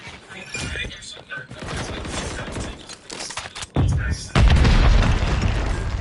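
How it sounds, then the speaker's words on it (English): Airstrike explosions in Call of Duty: Modern Warfare 3 during a search and destroy match: a dense, loud rumble of booms and bursts that swells into heavy, sustained blasts near the end, with game voices mixed in. "Hostile airstrike near your location."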